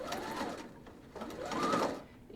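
A sewing machine stitches along the top of fabric backed with Perfect Pleating Tape while making pleats, running in two close bursts with a short pause between them, with no talking.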